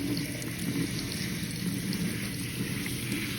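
Tap water runs steadily into a sink while hair is rinsed after shampooing for a loc retwist, a continuous close wash with no one speaking.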